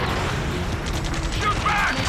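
Gunfire in the video game Ace Combat 7, a dense crackling rattle of rapid shots continuing throughout, mixed with radio-style voices and mechanical clatter.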